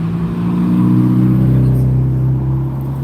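Road traffic streams past on a busy road in Norwich, a loud continuous engine drone with rising and falling tones as vehicles go by, no voices.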